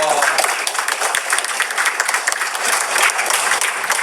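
A crowd at a live training session gives dense, loud applause that holds steady throughout, with voices mingling in the clapping.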